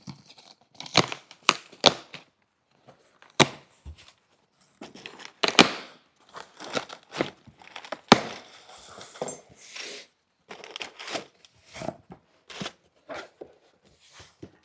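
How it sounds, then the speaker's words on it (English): Cardboard box flaps pried up by hand after the tape is split, giving a run of close, sharp tearing and crinkling rustles in irregular bursts with short pauses between. "I can go ahead and grab the corners of the box and pry it up"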